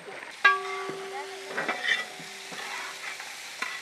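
Chopped onions go into a pan for a rohu fish curry: a sudden burst of frying hiss, then scattered stirring scrapes and clinks over a softer sizzle, no talking.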